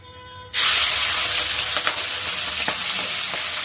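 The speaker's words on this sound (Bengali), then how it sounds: "প্রথমে আমি চিংড়ি মাছগুলোকে ভালো করে মেখে, নুন হলুদ দিয়ে আর কি ভালো করে মেখে তারপর তেলে ছেড়ে দিব।" Marinated shrimp coated in salt and turmeric hit hot oil with a sudden loud burst of sizzling that stays strong and steady, with a few crackling pops scattered through the spitting.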